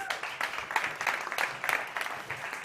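Audience applause at a startup competition pitch event, a steady wash of many hands clapping at moderate distance, continuous for a few seconds without talk.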